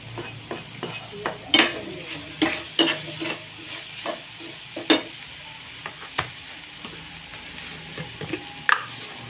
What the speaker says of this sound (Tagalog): isunod na natin ang carrots